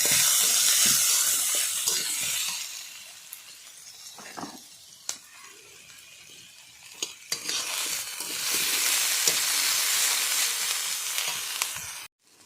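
Diced potato and brinjal sizzle in a pan, the hiss loud at first, easing during a quieter stretch with clinks of a stirring utensil, then rising again before cutting off.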